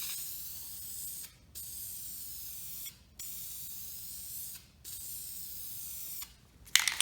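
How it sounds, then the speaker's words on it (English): Aerosol paint sprayed onto a black alloy wheel during curb rash repair, steady close hissing bursts of about a second and a half each, separated by short pauses, with no talking. "Now we're gonna spray again."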